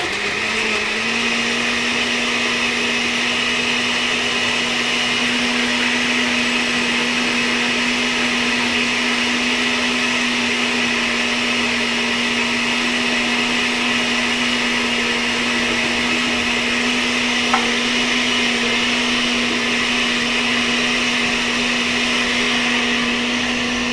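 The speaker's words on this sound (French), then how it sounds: "Donc d'abord je blende les bananes" A kitchen blender whirs continuously as it purées bananas, a steady loud motor hum with a constant pitch that holds unchanged for the whole stretch without pausing, close by and with no one talking.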